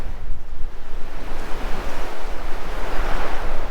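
Ocean surf and strong wind at Nugget Point in the Catlins, New Zealand, make a loud, continuous roar of breaking waves with gusty buffeting on the microphone, no voices present.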